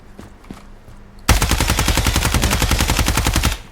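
Rapid automatic gunfire in the Ground Branch tactical shooter video game, one loud sustained burst of evenly spaced shots lasting about two seconds after a quiet moment with faint footsteps.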